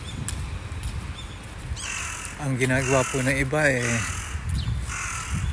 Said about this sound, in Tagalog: nagagalit na yung uwak